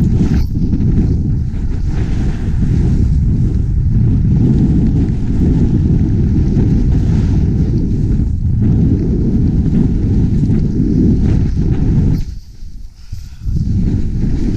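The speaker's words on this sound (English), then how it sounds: "It's a little windy up here." Strong wind roars steadily across the microphone at the top of the Imperial chairlift at Breckenridge ski resort, a loud, continuous gusting rush that briefly drops out near the end.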